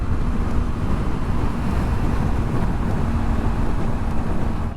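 Steady, loud wind roar buffets the microphone while riding a Yamaha MT-03 motorcycle along the waterfront, a continuous low rumble filling the whole stretch with no speech.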